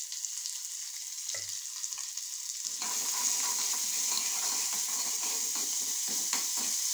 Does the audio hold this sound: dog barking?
no